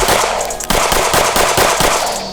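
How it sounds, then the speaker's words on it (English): Rapid bursts of submachine-gun fire from a Flux Raider SMG built as a Halo SMG replica, loud and close, several quick strings of shots with no talking. "First shots out of the Flux Raider,"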